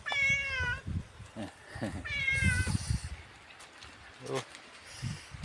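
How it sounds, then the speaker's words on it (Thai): A cat meows several times in the rain, drawn-out and fairly close, with quiet pauses and light background noise between the calls. "แมวก็ร้องดีดีเลย"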